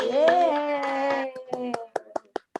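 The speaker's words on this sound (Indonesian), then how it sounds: "tepuk tangan dulu untuk anak-anak hebat ini" Children at a Sunday school service are applauded, with a few sharp, separate hand claps following a sung or cheered voice that fills the first half.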